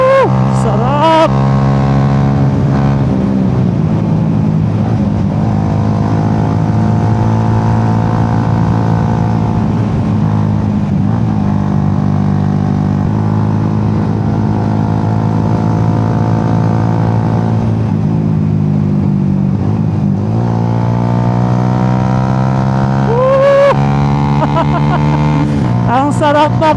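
A motorcycle rides along Marilaque Highway, an open mountain road. Its engine holds a steady, loud drone through most of the ride, with brief shifts in pitch as the throttle changes, and the rider's voice comes in here and there.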